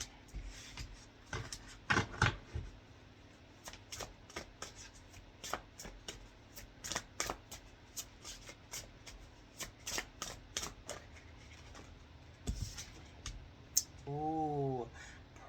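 A tarot card deck being shuffled at close range, with repeated crisp riffles and soft slaps of cards in irregular bursts, alone with no talk and a brief faint tone near the end.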